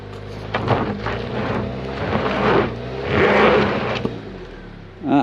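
A 2023 Jeep Compass engine revs and labours in uneven rumbling surges as a wheel spins during an off-road clearance test, close and fairly loud, ending with a sharp thump.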